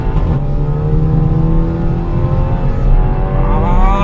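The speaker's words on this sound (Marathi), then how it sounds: "ही कल्लो रे टर्बोचो आवाज येता. ब्लो ऑफ वाल्व आहा का." A fast turbocharged car accelerates on a road in North Goa, its engine droning loud and close with a rising whine toward the end, suggesting turbo spool, while no distinct blow-off hiss stands out.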